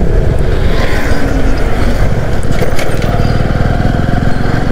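Motorcycle riding toward Hamsaladeevi beach where the Krishna river ends, a loud, steady engine drone with heavy wind buffeting the microphone, continuous and close.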